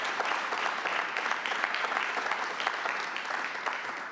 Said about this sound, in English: So please give them also a round of applause.